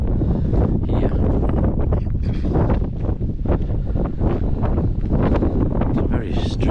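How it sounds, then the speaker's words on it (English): Strong wind gusts across an exposed hilltop ridge, roaring heavily and continuously into the microphone at close range, with faint voices half buried beneath it. "we've got the wind with us again, blowing quite strongly"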